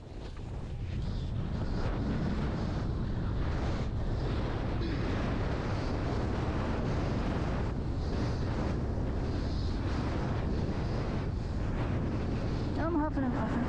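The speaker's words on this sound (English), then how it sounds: "Now the wind's really gusting and it's an unfavorable wind shift," Gusting wind during a wing foiling race in Hawaii, a steady loud rush of wind noise over the microphone mixed with water and board sounds, continuous throughout.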